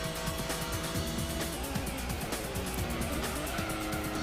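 Race car engines roar continuously in Gran Turismo on the PS1 during a hard-tuned car speed contest, with shifting revs and tire squeal, loud and sustained with no talk.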